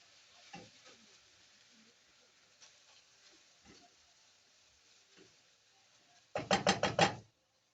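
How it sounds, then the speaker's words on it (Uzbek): Onions fry gently in a pan for a quick pasta dish, a soft, steady sizzle broken by occasional spatula scrapes, ending in a louder flurry of stirring clatter. "Yaxshilab qovuramiz, shoshilmasdan. Piyozlarimiz yaxshi qovrilishi kerak."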